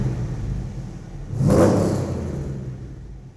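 A 500-horsepower car engine blips its throttle nearby, the rumbling idle rising in one loud rev around the middle before settling back to a steady growl.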